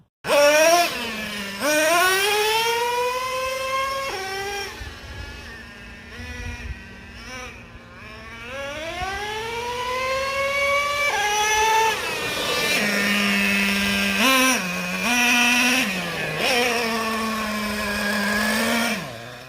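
A Traxxas Revo 3.3 nitro RC truck engine screams loudly, its pitch climbing in long sweeps and then dropping sharply as the transmission shifts gears, repeating several times with no talk.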